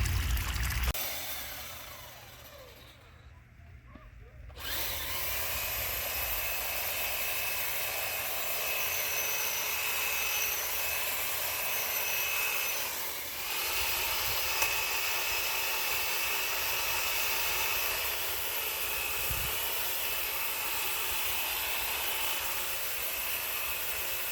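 Hedges and shrubs are trimmed with a steady, droning, buzzing cut that runs almost unbroken for over twenty seconds after a short lull near the start, close and fairly loud.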